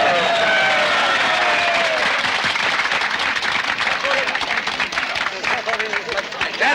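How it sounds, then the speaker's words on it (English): An audience claps and cheers in dense, continuous applause after barrels are opened, loud at first and thinning slightly toward the end. "show your appreciation by clapping your hands if the barrels are successfully opened"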